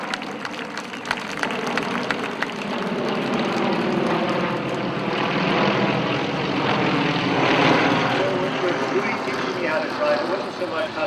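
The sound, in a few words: airplanes flying over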